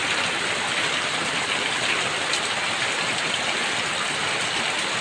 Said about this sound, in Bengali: মুসলধারে আবার বৃষ্টি শুরু হয়ে গেল